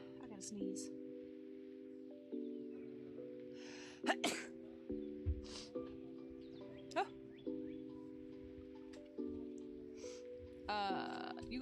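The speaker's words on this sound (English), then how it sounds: "I gotta sneeze." A single short sneeze bursts out over steady background music, with a few other brief throat and breath noises nearby.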